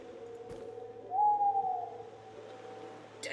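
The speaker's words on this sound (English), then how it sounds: "Nocturnal. There's an owl." An owl hoots in the video game A Lost Man, a single smooth, sustained hoot standing out clearly over a quiet, droning ambient backdrop, with no voices.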